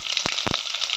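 Mustard seeds spit and crackle in hot oil in a kadai, a steady close sizzle broken by a few louder pops.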